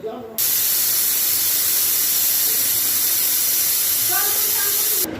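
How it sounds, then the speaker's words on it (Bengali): A pressure cooker holding mutton releasing its steam: a loud, steady hiss bursts out suddenly and runs almost five seconds before cutting off, with faint voices underneath. "তো এবারে প্রেশারটা রিলিজ করে দিচ্ছি"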